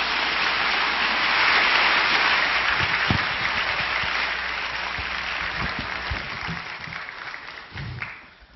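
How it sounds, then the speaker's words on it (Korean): Warm welcoming applause from a church congregation at Onnuri Church in Korea, a large crowd clapping steadily and fairly loudly for several seconds before tapering off, with a few low thumps and rustles near the end. "우리 뜨거운 박수로 환영하겠습니다."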